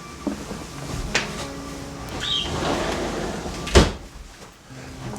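A door thuds shut once, a sharp knock standing out from a low background hum, with a fainter beep-like tone and small clunks earlier.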